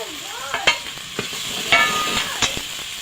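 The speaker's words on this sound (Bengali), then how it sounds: "আমি এটা একটু ভেজে নেব।" A paste of onion, garlic and spices for a pangas fish curry fries in a pan, sizzling steadily while a utensil stirs and scrapes it in several sharp knocks.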